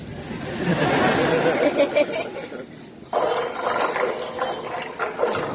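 Handcuffs ratcheting as live group Foley on a stage, a dense run of clicking metallic ratchet chatter in close bursts that pause briefly and start again.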